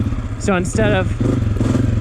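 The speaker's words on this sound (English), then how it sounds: "I'm going to let the engine RPM go down to an idle. And it's chugging a little bit." Trail dirt bike engine chugging low near idle in third gear at walking pace, a steady close rumbling throb running throughout beneath a voice speaking.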